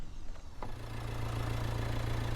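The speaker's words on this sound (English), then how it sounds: "let's run along the wires with the engine idling." A Renault Kadjar 1.5 dCi diesel engine (2016) idles with a steady low rumble, close and continuous, with a faint knock underneath and no talking.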